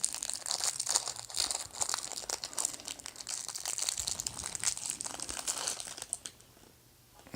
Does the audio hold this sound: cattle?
no